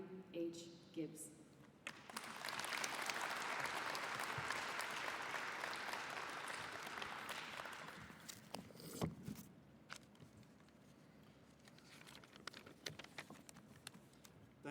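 An outdoor crowd at an airlift squadron change-of-command ceremony claps warmly to welcome the new squadron commander, steady applause swelling for several seconds then thinning into scattered claps and faint rustle.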